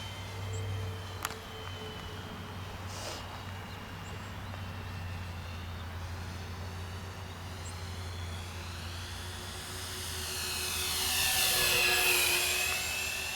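An Avios Kingtwin 1700 twin-engine RC airplane flying over a dirt runway, its engines whining steadily at a distance and then swelling louder as it passes overhead, with no talk.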